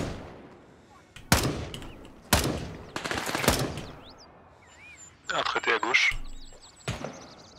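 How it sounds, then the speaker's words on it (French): Gunfire in the video game Gray Zone Warfare cracks out in several sharp, loud bursts spread over a few seconds, with people talking in between and over the shots. "Tire sur moi. Ouais, ça tire sur nous."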